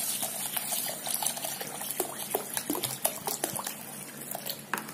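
Water is poured and swirled over soaking jowar, toor dal, chana dal, urad dal and rice, with a close, continuous splashing and trickling broken by small sharp clinks.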